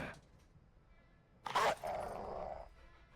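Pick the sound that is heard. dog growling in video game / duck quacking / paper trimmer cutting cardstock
dog growling in video game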